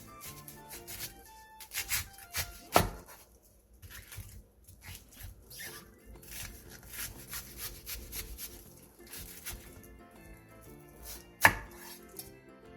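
A knife slices an onion into rings about 0.5 cm thick on a cutting board, a steady series of crisp cuts with a few louder knocks, close and without talk.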